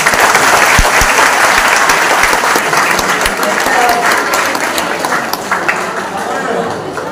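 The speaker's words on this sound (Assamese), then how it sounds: "প্লিজ ডাঙৰ হাত চাপৰি আছে" Sustained loud applause from a college quiz audience in a hall, steady clapping filling the whole stretch with a voice speaking over it.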